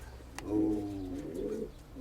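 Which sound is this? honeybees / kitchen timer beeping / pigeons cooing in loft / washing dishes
pigeons cooing in loft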